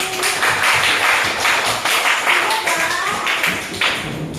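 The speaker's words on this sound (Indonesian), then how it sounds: "Tepuk tangan dulu untuk senang nih." A group of children claps hands in a quick, uneven burst, loud and close, with voices mixed in among the claps.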